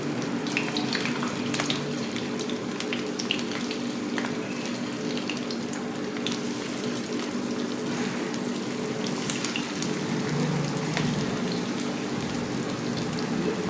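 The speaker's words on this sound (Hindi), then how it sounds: "और मैं अपना चिकन इसमें फ्राई कर लूँ" Chicken fries in a pan over medium-high flame for chow mein, a loud, dense, continuous sizzle with scattered crackles and pops, close up and without talk.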